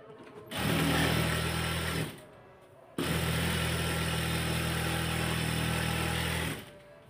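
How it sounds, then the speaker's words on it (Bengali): A sewing machine stitches the inseam of palazzo trousers in two close, steady runs, one short and one longer, with a brief pause between them. "এখন এটাকে সমান করে ধরে আমি ইনসিএমটা সেলাই করব"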